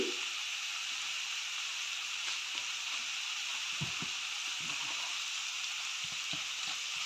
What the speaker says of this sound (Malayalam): നന്നായിട്ട് ഒന്ന് ഇളക്കി കൊടുക്കുക എന്നിട്ട് മൊത്തത്തിൽ ഒന്ന് അങ്ങോട്ട് മിക്സ് ചെയ്യണം